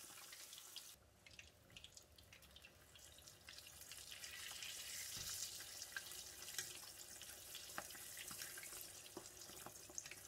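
Pork belly deep-fries skin side down in very hot oil, making a continuous hissing, bubbling sizzle with scattered sharp pops and crackles, steady and fairly quiet, with no talking.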